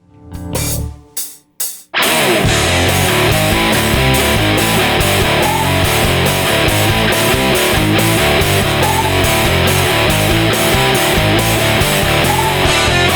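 Heavy drop D electric guitar riff, a few choppy stabs then a dense, loud, driving distorted pattern that repeats steadily, with no talk over it.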